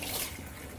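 Hot water runs from a kitchen tap for handwashing, a steady close hiss and trickle filling the whole short moment without pause.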